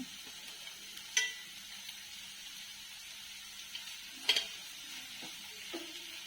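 Chopped green beans and carrots stir-fried in a pan while a vegetable pasta is being made, giving a low steady sizzle broken by a few sharp clinks of a spoon or spatula against the pan.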